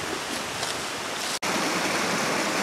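Creek water rushing steadily over rocks at an old mining site, a dense continuous wash heard close by with a brief dropout midway.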